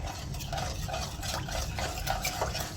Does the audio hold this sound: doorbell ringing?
no